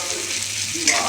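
Chopped onions go into hot oil already spiced with whole tempering spices and dried red chilli for a crab curry, giving a steady, close hiss and sizzle with a brief louder splutter near the end.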